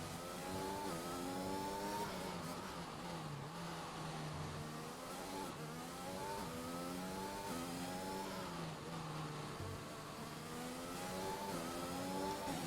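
Formula One car engine in a racing video game during a slow out-lap at Singapore, revving steadily up and down through gears with shifting pitch sweeps, loud and continuous throughout with no talk.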